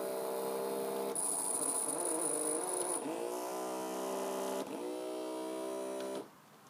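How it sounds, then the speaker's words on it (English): A LEGO Dacta motor runs under computer control with a steady high electric whine, shifting pitch as it switches direction and another motor starts, then dropping away near the end. "So here I can control a motor one way, then the other way, another motor."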